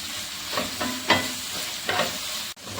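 Sliced ginger, chopped garlic, green chillies and curry leaves are sautéed in hot oil for a chicken stew, with close, steady sizzling broken by repeated scrapes of a stirring spoon.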